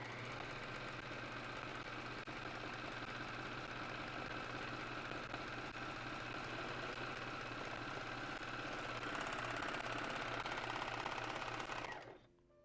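A serger runs steadily at speed while stitching fabric for a Pirate Umbreon commission, a dense mechanical whir with rapid rhythmic clatter that holds without a break for about twelve seconds before stopping abruptly.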